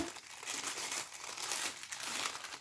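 Paper crinkling and rustling as a small, very light advent calendar gift wrapped in paper is unwrapped by hand, a steady close-up crackle with brief tearing.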